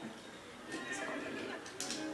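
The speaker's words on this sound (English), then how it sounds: "this is that part where I gotta grab onto the horse and get him under control" A horse whinnies loudly in The Legend of Zelda: Twilight Princess during a horse-taming sequence, a sustained neigh over busy game sound with hoofbeats and a person talking.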